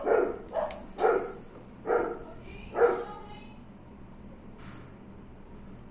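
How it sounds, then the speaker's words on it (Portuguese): Several sharp dog barks in a loose burst, fairly close, followed by quieter room noise and a faint distant bark. "Desculpa, pessoal, meus cachorros."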